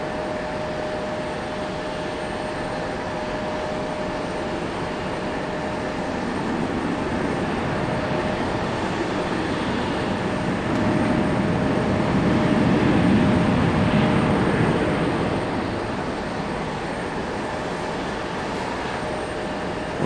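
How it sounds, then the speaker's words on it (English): An Avelo airliner lands at Raleigh-Durham airport, a broad steady roar that swells to a peak midway and then eases off, heard at a distance against a constant background hum. "Got a Velo landing over here."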